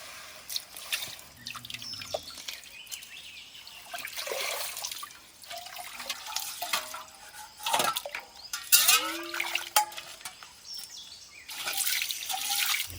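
Water from a spring on a hillside among ferns, trickling and dripping nearby in irregular splashes and plinks, fairly quiet against a still background.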